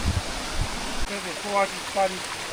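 A small stream near a little waterfall rushes with a steady, broad hiss, while people talk over it.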